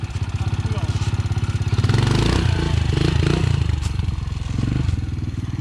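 Yamaha TTR dirt bike engine revving hard and steadily during a wheelie, a loud close buzzing drone that swells and dips with the throttle, with rattling clatter and some voice underneath.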